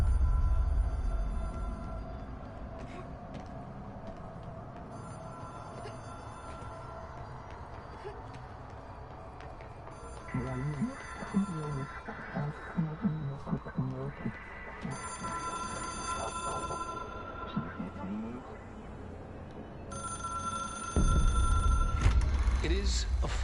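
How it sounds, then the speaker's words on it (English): Telephone ringing in a video game on PS4: repeated bursts of bright electronic ringing separated by short pauses, with game ambience and background noise between rings and a louder rumble near the end. "It is a phone."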